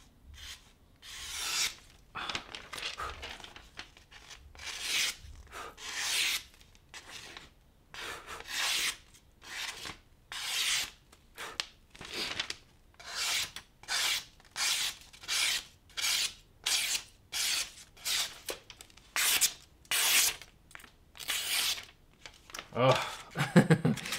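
A slicer knife is drawn back and forth across a sharpening stone in steady, rhythmic rasping strokes, about twenty-five close scrapes with short pauses between, fairly quiet and alone.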